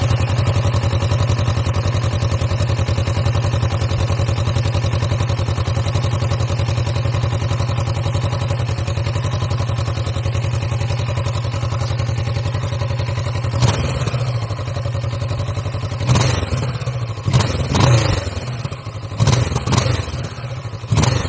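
A 2020 Kawasaki Vulcan S cruiser motorcycle engine runs steadily with a low rumble, then gives several short revving bursts near the end, close and loud with no talking.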